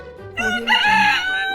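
A rooster crows once, loud and near, a brief lower note leading into a bright sustained cock-a-doodle-doo call.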